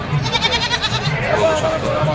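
Goats at a Sunday livestock market in Sangola give a wavering, nasal bleat through much of the moment, loud and close, amid crowd chatter and people talking nearby.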